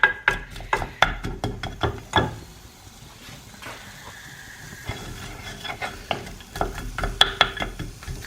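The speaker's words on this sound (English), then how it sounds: "So I'm just going to cook that until the onion's softened." Onion sizzling softly in a pan while a wooden spoon knocks and scrapes against it in quick irregular strokes, pausing midway before the stirring resumes.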